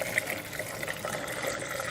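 Water pours steadily for rinsing between tastings, a soft, continuous trickling fill that is moderately close and without a break.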